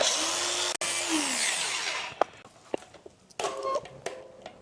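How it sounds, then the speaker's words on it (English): An angle grinder skims the edge of a bicycle freewheel, a loud high whine with a descending tone that cuts off, followed by scattered metallic clanks and short bursts of grinding. "I'm going to attempt to cut this very slightly on the edge, just skimming the freewheel."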